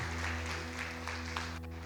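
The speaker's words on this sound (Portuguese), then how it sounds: "Dê um forte aplauso ao Senhor." Church congregation applauding during a Sunday worship service, a steady wash of clapping over a sustained low hum from the sound system, filling the short moment without any talk.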